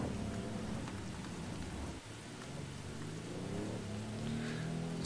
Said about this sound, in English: Dang, it is really rainy in St. Lawson today.